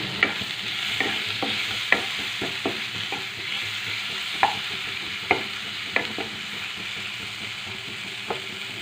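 Chopped tomato is stirred into a frying fish curry with taro, a steady loud sizzle under repeated sharp scrapes and knocks of a spoon against the pan, with no talk.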